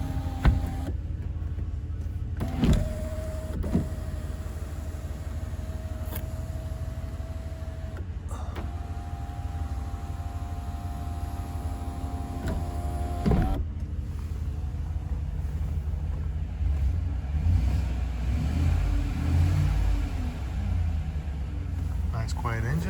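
A 2017 Chevrolet Tahoe LT's sunroof motor runs in steady whining stretches as the glass tilts up and down, heard up close inside the cabin over a low rumble.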